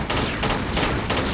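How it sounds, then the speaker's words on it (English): Pistol gunfire in the video game Tomb Raider 4, a fast string of loud shots in a steady rhythm, fired against a giant scorpion inside a pyramid, with no talking. "Killing this guy with pistols"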